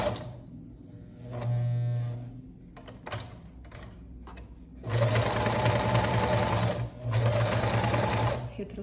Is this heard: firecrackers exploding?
no